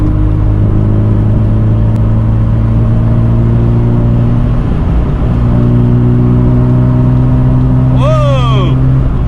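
A 1986 Ford Capri with a 2.0 Pinto engine drones steadily while driving, a close, constant cabin hum with one brief rising whine near the end.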